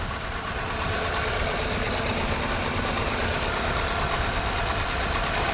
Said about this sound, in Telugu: ఇంజన్ స్టార్ట్ చేసి కూడా చూపిస్తాను